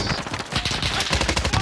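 Rapid gunfire from the video game Modern Warfare, a dense run of sharp loud blasts back to back through the whole short stretch, with no talk over it.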